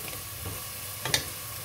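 Meat frying in a pan, a steady soft sizzle with a brief louder stir or scrape near the end.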